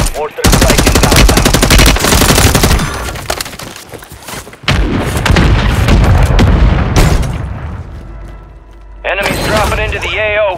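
Mortar strikes in Warzone 2.0 land as loud, close booms mixed with rapid bursts of automatic fire, in heavy waves with short gaps, and a brief voice comes through near the end.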